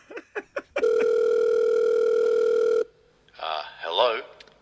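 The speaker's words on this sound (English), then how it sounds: "Whoa, my phone is ringing." A few short blips, then a long steady electronic phone ring tone in the video game Sandwich Artist 3D, followed by a person talking.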